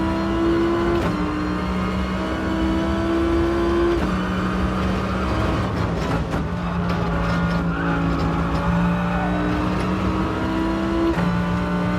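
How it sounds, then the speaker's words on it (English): A Tomahawk race car engine in Gran Turismo shifts up early again and again at low revs, the steady drone dropping in pitch at each change, close and loud, with brief tire noise. "You'll notice I'm upshifting very early. Rev bar is barely coming on."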